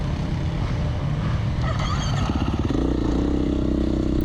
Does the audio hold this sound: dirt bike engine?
yes